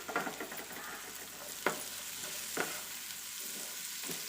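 Fresh green cashew nuts fry and get stirred in masala in a pan, giving a low steady sizzle with a few soft scraping clinks from the spoon, heard close and fairly quiet.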